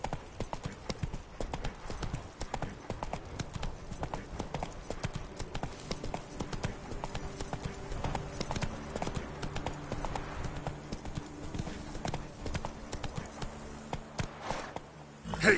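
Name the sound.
horse Roach trotting hooves in The Witcher 3 video game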